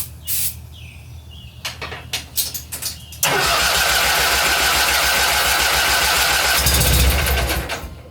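A Simplicity Sunstar garden tractor engine cranks and catches after a few brief clicks, then runs loudly and steadily at close range, with a rougher surge near the end.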